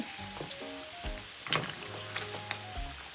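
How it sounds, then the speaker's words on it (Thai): Pork frying in bubbling oil with pandan leaves for crispy Thai pork, a steady low sizzle with occasional sharper pops and crackles, close by, with no talk over it. "สังเกตว่าฟองเริ่มปุดๆแบบนี้แม่ก็คือเร่งไฟไปเลย"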